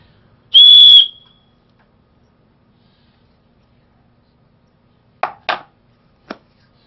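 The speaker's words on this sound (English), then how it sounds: "a whistle on the other side, and you put your mouth over this end of the knife and blow" A piercing, high dual-note whistle blown through the handle of a SOG Tool Logic SLP1 survival knife sounds once for about half a second, followed by a few faint clicks and taps.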